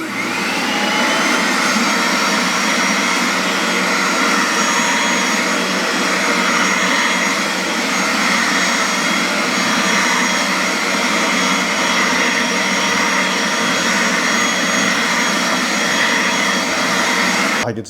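A BISSELL Little Green multi-purpose carpet cleaner runs on an area rug, its strong suction motor giving a loud, steady, high-pitched whine that stays even from start to finish.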